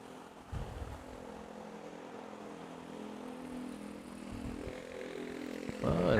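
A DHL Airbus A330 freighter at Manila Airport gives a steady, distant jet engine roar that slowly grows louder over several seconds, with no talk.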